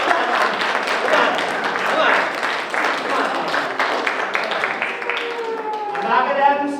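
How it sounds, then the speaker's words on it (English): Audience at a magic show in Granby, Massachusetts breaks into a round of applause for the performer's mom, dense clapping filling the room throughout before thinning out near the end as a voice and a few scattered claps remain. "Give my mom a round of applause."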